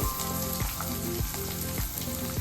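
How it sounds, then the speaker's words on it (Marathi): Chopped onion goes into hot oil already seasoned with cumin, mustard seeds, asafoetida and curry leaves, making a loud, steady sizzle with repeated sharp spatula scrapes and knocks at a regular rhythm, close up and with no talking. "इथं कांदा काटून ठेवलाय तो कांदा टाकते"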